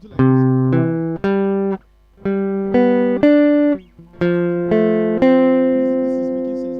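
Clean plucked notes ring out one at a time in short phrases, each tone sustaining briefly before the next, with small pauses between groups.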